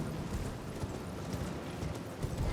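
Horse hooves clip-clop at a steady gallop in the video game Elden Ring, a continuous low thudding rhythm close by under ambient game sound, with no talk.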